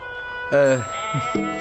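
Sheep bleat in a wavering, nasal way, one long close bleat followed by two shorter ones over a steady background hum.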